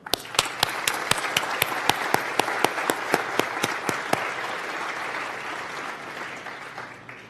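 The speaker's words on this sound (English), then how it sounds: "they have all earned an additional round of applause" Audience applause at a formal gathering, with a few loud, close claps in a regular rhythm standing out over a broad crowd clapping that gradually fades toward the end.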